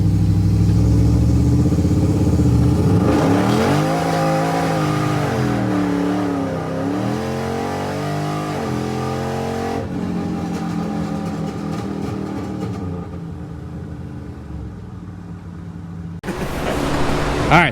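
A HEMI-swapped second-generation Dodge RAM 1500 pickup drives off and revs, its engine note climbing and falling loudly through repeated accelerations, holding a steady drone before a final rise at the end.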